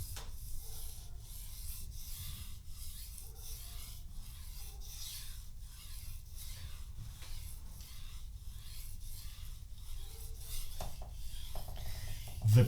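A blade is stroked back and forth across a wet 1000 grit whetstone, making a soft, steady rhythmic rasping of repeated scrapes, close and fairly quiet with no speech.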